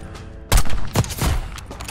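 Sniper gunfire from an overpass in a Black Ops 6 campaign mission. Sharp, loud gunshot bursts start suddenly, then further blasts follow in quick succession and fade into a rumbling tail, with no talking.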